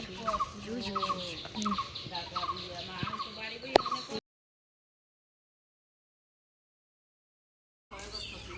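Poultry kept in a village household yard give repeated gobbling, clucking calls at a moderate distance over outdoor background noise, then the sound cuts to silence before resuming briefly.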